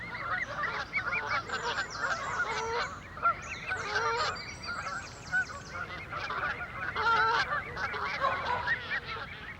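Canada geese and goslings in a London park honk loudly and steadily, a dense overlapping chorus of calls from a close flock with no talking.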